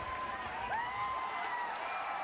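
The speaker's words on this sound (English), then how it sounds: "And they're cheering on this robot as it very slowly walks up these stairs" Crowd of about 10,000 people at a live event cheering and applauding as a robot slowly climbs stairs, a steady wash of clapping and whoops at moderate distance, unbroken for the short stretch.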